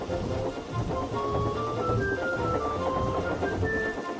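Steady rain pattering on a surface with low rumbling thunder, a continuous storm sound effect at even volume with no voices.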